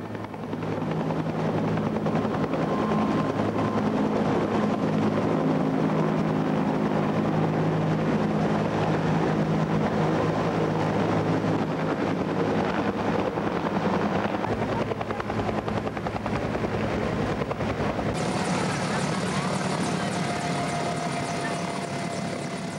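Ultralight helicopters fly over a Three Kings parade in Girona, giving a steady, loud rotor and engine drone that holds for over twenty seconds and shifts slightly in tone near the end.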